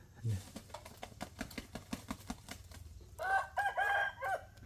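Chickens at their evening roost cluck in a quick, irregular series of sharp calls, then a rooster crows loudly near the end; a person speaks over the birds.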